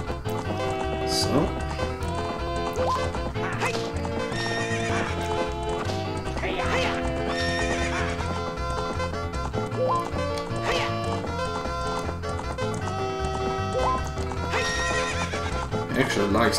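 Horse neighing and whinnying in the video game Zelda: Ocarina of Time, with clip-clop hooves under continuous game music and occasional voice sounds throughout.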